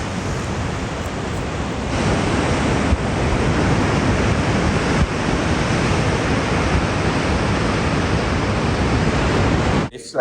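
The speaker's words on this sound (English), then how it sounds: "If like me, you've wondered why the hell the waves are so big here, this is why." Heavy ocean surf on the Portuguese coast near a fort above an undersea canyon roars steadily and loudly for ten seconds, a dense wash of breaking waves mixed with wind buffeting the microphone.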